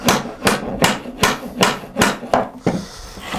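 A hammer taps pinch dogs into a wood joint in seven or eight sharp, evenly spaced knocks, close and loud, with no voice over them.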